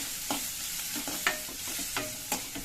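Beans, carrots and capsicum are stir-fried for vegetable fried rice, with a spatula scraping and knocking against the pan in uneven strokes over a continuous close sizzle, and no voices.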